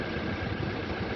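Toyota diesel engine, Fortuner/Hilux/Innova Reborn type running on biosolar fuel, held at about 4000 RPM; a steady, loud, dense drone continues without a break and with no talk over it.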